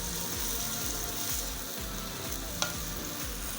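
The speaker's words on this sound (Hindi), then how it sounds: "तो 5 मिनट के लिए इनको अच्छी तरह से भून लेते हैं।" Bitter gourd pieces frying in masala in a pan, a steady dense sizzle with rhythmic stirring scrapes throughout and one sharp clink near the end.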